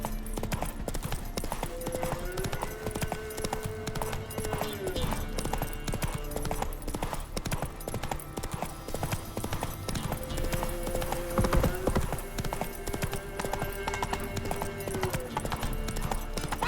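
Horse hooves clip-clop in a steady galloping rhythm in the open-world fantasy game The Witcher 3, loud and continuous beneath layered game ambience and music with no talk.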